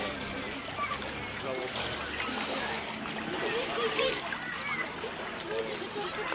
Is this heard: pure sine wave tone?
no